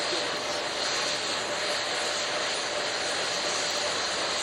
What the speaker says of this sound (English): Booster ignition. And liftoff.